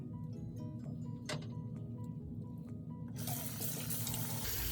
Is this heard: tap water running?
yes